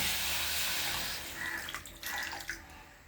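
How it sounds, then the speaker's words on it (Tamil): Water pours steadily into a pan of sugar for a cooking recipe, a continuous splashing hiss that softens and breaks into gurgles toward the end. "நான் தண்ணி ஊற்றுறேன்"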